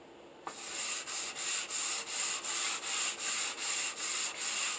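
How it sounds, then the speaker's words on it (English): Rhythmic hand sanding with a sanding block, a steady back-and-forth rasp of abrasive on a wooden table top, about a dozen even strokes, close and moderately loud. "I use a sanding block to finish the sanding"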